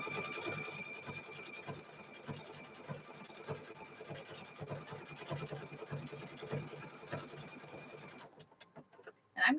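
A sewing machine runs a continuous stitch along a fabric edge for quilt making, a steady close mechanical whir that stops near the end, followed by a brief sharp handling noise.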